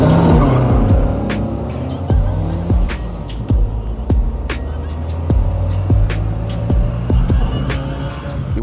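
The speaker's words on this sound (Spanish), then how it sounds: "A la izquierda, un bocho con motor refrigerado por aire. A la derecha, una Ford con motor V8." An air-cooled VW Beetle and a Ford V8 race side by side at night in Mexico City, loud engines roaring and revving with sharp bursts of tire squeal running throughout, no talking.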